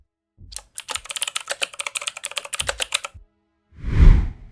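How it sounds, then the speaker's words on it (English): A rapid series of sharp mechanical clicks and clacks of matchlock guns, burning matches lowered into gunpowder pans, closely spaced and crisp, followed by a brief pause and a soft low thud. "It was the sharp, mechanical clicking of burning matches being lowered into gunpowder pans."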